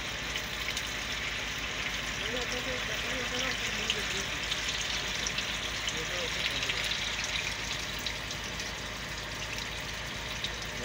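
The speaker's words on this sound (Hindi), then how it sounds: "तो अभी अंदर से पानी चलवाने लगे हैं घर के अंदर से" Water running through a household drain pipe after being turned on from inside the house, a steady faint gurgling flow heard outdoors beneath nearby voices.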